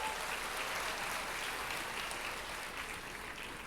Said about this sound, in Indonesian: Puji Tuhan, tepuk tangan yang kuat, cool.